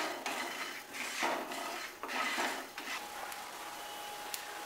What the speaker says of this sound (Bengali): এবার গ্যাস ওভেনের ফ্লেমটা আমি কমিয়ে নেব, নিয়ে এটা আস্তে আস্তে সামান্য পরিমাণে রোস্ট করব।